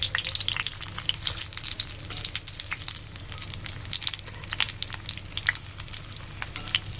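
Food fries in hot oil in a pan while it is stirred around. A busy crackling sizzle comes close and fairly loud, with irregular scraping taps from the stirring.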